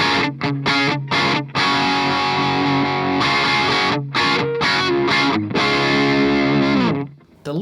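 Electric guitar through the clean channel of an ENGL Ravager amp, pushed into big rock tones: loud strummed chords and sustained notes with short breaks between phrases, ringing out alone.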